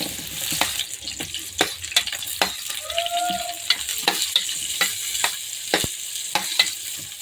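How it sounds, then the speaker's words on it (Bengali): Onions fry in mustard oil in a wok for biryani, a steady close sizzle broken by repeated sharp scrapes and knocks of a spoon stirring the pan. "পেঁয়াজটাকে একটু নেড়ে দেবো, লালচে লালচে ভেজে দেবো"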